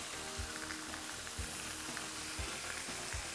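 Sprouts, zucchini and squash sizzling steadily in a hot pan, a constant close hiss with soft periodic stirring knocks and scrapes, no voices.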